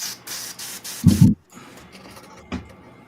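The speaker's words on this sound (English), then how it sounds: "cleaning out my airbrush real quick" An airbrush is cleaned out with short, close hissing sprays, several quick bursts followed by a louder, lower sputter and a final brief puff.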